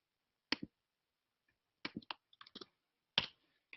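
Clicky computer keys tapped in short, irregular bursts of a few strokes each, with gaps between them, close and crisp in an otherwise silent room while typing a chat message with a link.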